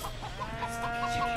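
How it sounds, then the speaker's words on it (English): Chickens cluck in a quiet run of short repeated calls inside the Moving Out couch co-op video game, with a faint background hum. "There's so many chickens."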